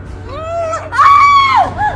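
A woman in a drama scene lets out two loud, strained screams, a shorter wavering cry followed by a longer, sharper, higher one that breaks off abruptly.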